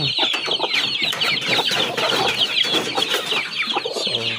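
Dong Tao chickens cluck busily while being fed, a dense overlapping chorus of close, loud clucks and chatter from several birds running throughout with no talking.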